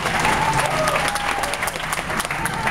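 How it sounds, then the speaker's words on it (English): Studio audience at a Universal Studios Hollywood special effects stage show clapping for a volunteer, dense continuous applause filling the room, loud and sustained. "Clap for Brie Lynn!"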